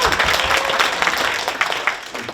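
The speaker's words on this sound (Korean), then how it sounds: "6조 발표도 큰 박수 한번." An audience at a citizens' public forum applauds a group about to present, loud dense clapping that holds steady for a couple of seconds before thinning slightly.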